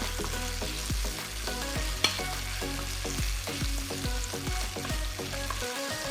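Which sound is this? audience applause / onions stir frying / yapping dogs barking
onions stir frying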